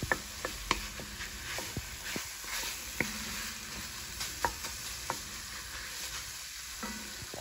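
Meat and spices cook for chili in a pot, giving a soft, steady sizzle with scattered light clicks and scrapes of stirring, quiet and close with no talking.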